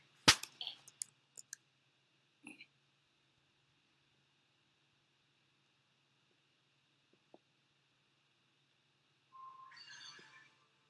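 A smartphone's text message alert sounds near the end as a brief, bright electronic chime lasting about a second. Before it come a few sharp clicks and a long stretch of near silence.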